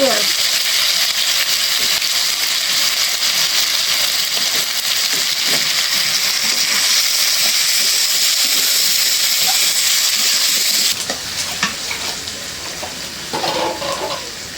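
Onion dropped into hot oil in a pan while cooking a tilapia and eggplant curry: a loud, steady frying sizzle and hiss that runs strongly, then eases into quieter crackling with some stirring clatter toward the end.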